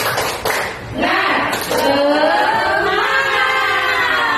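A group of teachers and a leader perform a 'tepuk semangat' spirit cheer, rhythmic group clapping with chanted voices. A few sharp, close claps punctuate loud, sustained group calls for about four seconds.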